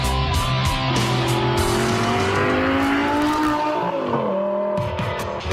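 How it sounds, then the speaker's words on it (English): A Lamborghini Murcielago engine revs hard and accelerates, a loud continuous roar with rising and falling pitch through gear changes, close and dominating throughout. "Fire up the engine, and this hunk of eye candy transforms into a supreme street machine"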